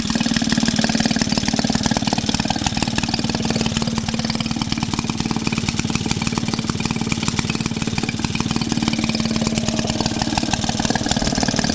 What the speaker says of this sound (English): I think this exhaust cover that I've put on here does make it a tiny bit louder.